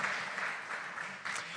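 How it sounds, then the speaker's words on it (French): Audience applause at a conference on energy transition and resource-flow optimisation, a fairly faint, steady wash of clapping that swells slightly near the end, with no voices over it. "Bah oui, on peut les applaudir, ça c'est sympa."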